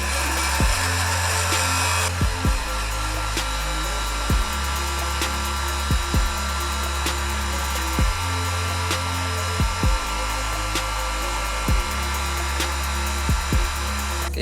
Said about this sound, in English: We're going to use this heat gun that Bo is holding.